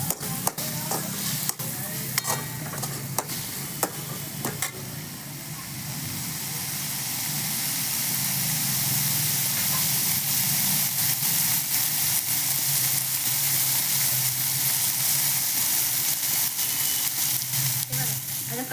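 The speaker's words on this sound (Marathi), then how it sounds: "हे छान असं कांदा एकदम नरम होईपर्यंत आपण परतून घेऊया।" Onion sautéing in a pan with roasted chillies for a homemade samosa filling, a steady close sizzle that builds after a few sharp utensil clicks and stirring scrapes at the start, running continuously to the end.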